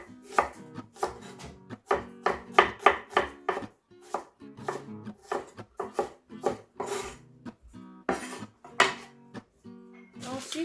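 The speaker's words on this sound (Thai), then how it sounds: "Je vais découper les échalotes" A knife chops shallots on a cutting board for a Thai tamarind egg dish, with sharp, close, irregular knocks in quick bursts and brief pauses between runs.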